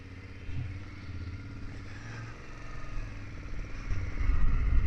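A 2024 BMW F800GS motorcycle engine runs at low revs with a slight rattle, a close, moderate rumble that swells toward the end.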